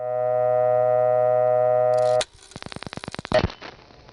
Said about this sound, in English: As we make a call to Allentown, you'll be able to hear why this equipment is called step-by-step.